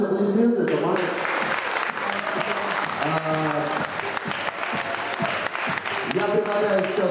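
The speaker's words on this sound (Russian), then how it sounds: "Бурные аплодисменты, это Маня." A room full of people applauding loudly and steadily at a Witcher 2 presentation, with a voice speaking over the clapping.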